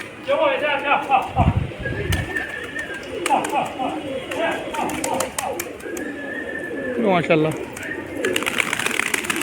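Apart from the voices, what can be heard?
pigeons cooing and flying at the loft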